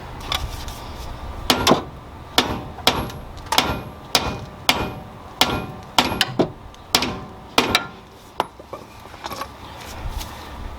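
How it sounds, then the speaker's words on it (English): Metal is struck hard with a hammer about a dozen times at a steady pace while replacing a heated axle part on a 2006-2016 Chevy Impala 3.6, each blow a sharp, loud clank that rings briefly. "I'm going to take a hammer and bang it back down"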